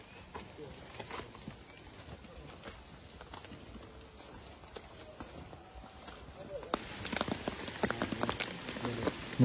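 Steady hiss of heavy rain falling on a mountain trail toward the second post of Mount Slamet, with scattered drips and patters growing busier near the end as hikers in raincoats move along.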